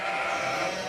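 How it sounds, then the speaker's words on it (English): Hungry farm sheep bleating together in a continuous, loud chorus, the calls overlapping without a pause through the short stretch. "As you can hear, the sheep are fairly hungry."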